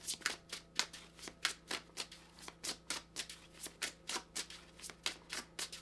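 Witches' Oracle cards being shuffled by hand, a close, soft, rhythmic riffling with steady regular strokes, quiet and without talk.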